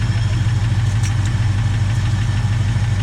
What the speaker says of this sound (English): got the lifter coming back again